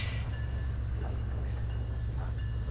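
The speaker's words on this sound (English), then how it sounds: "A train." A train rolls slowly through downtown Hattiesburg, a steady low rumble of rail cars with faint squeals and clanks, continuous and fairly close, with no one talking.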